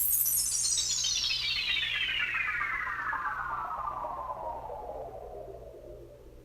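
The Due West sound effect from Battery 4, a single smooth descending sweep that glides steadily from a high whistle down to a low tone over several seconds, faint and fading slightly, with a quiet hum beneath.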